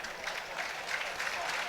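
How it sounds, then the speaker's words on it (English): A football crowd at a Millwall v Wrexham match applauds a substituted player, a soft, steady patter of clapping over a distant stadium murmur. "He gets a good round of applause."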